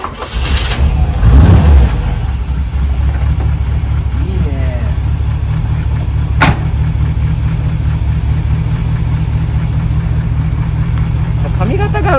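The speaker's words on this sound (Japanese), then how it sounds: "ちょっとかけてみますか、エンジン。" A Chevrolet C10 pickup truck engine cranks and catches, revs up briefly, then settles into a steady, deep idle close by, with people talking over it at times.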